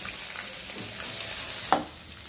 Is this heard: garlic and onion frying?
yes